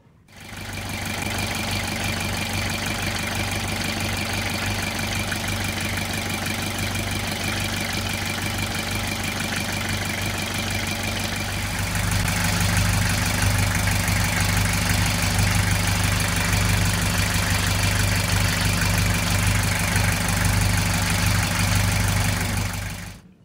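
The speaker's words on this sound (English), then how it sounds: "Let's fire this engine back up" A sailboat's inboard engine, just refitted with a clear-topped raw water strainer, runs steadily and close with a knocking diesel idle; its tone deepens and grows slightly louder about halfway through, with no talking.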